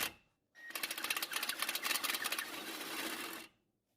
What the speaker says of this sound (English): I use an electric impact on the other side to remove the nut side of the fastener